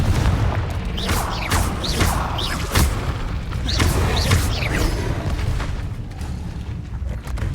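Confringo fire spell blasts in Hogwarts Legacy, loud booming explosive bursts with whooshing streaks repeating several times in quick succession amid rumbling game effects, shattering rocks.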